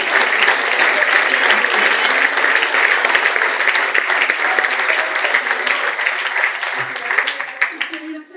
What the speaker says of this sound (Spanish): dar un aplauso fuerte al Dios del cielo